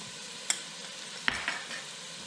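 Garlic goes into a pan of frying carrot and celery for Bulgarian bob chorba, giving a soft, steady sizzle broken by two sharp clicks of utensil on pan, with no talking.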